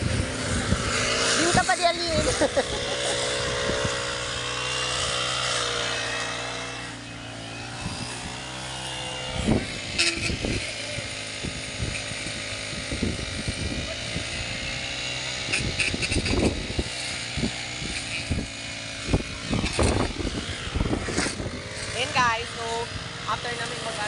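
Turf cutter engine running steadily nearby, a loud continuous motor drone with a harmonic hum and clattering bursts throughout, while people talk and call out over it.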